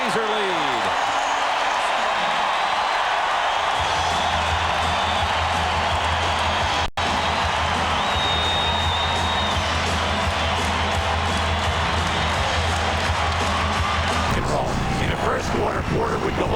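A basketball arena crowd roars in a steady, dense wash of cheering at a 1991 Celtics–Trail Blazers game in Portland, while a commentator talks over the noise throughout.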